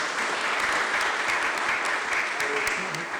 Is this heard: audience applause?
yes